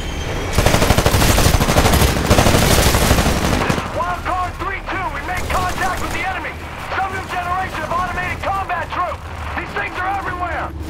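Gunfire in a Titanfall video game battle: a dense, loud burst of shots and explosions at the start gives way to quieter battle noise under radio-style voices talking.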